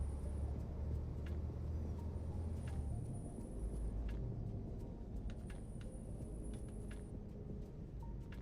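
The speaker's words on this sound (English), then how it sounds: "your truck sounds good, bro." A truck engine in Euro Truck Simulator 2 drones as a low, steady rumble, fairly quiet and unbroken, with faint high whines and brief clicks above it and no talking.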